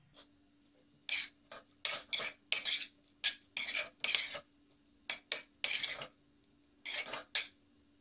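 A spoon scrapes and stirs mango ginger pickle in a metal vessel, making bursts of clinking, rasping strokes in an uneven rhythm, close and fairly loud, separated by short quiet gaps.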